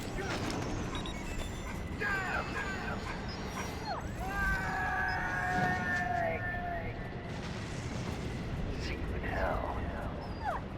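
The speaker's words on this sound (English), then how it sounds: "Hear that, Snake? Yeah. The wolf dogs." Wolf dogs whimper, yip and bark in Metal Gear Solid 4: Guns of the Patriots, a series of high, sliding whines and short yelps at moderate distance over a steady ambient hum, with game dialogue spoken alongside.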